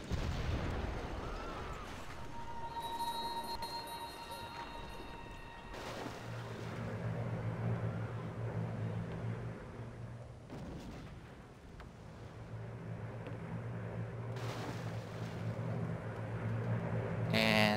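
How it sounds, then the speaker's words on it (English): Distant booming gunfire and rumbling engine drone as fighters shoot down Great War Bombers in Civilization V, faint and low, with several separate bursts and swelling tones over a steady background. "And I'm now shooting down all the Great War Bombers with my fighters"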